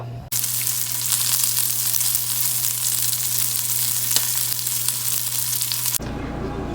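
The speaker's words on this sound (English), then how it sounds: "once the oil is heated, I'm going to brown it up" Salted and peppered pork loin browning in hot oil, giving a loud, dense, continuous sizzle close up for about six seconds before cutting off abruptly to a quieter hiss.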